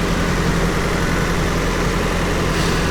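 A 1988 Nissan Silvia S13 with a swapped SR20DET engine idles steadily, a loud, close, even engine rumble with no voices over it.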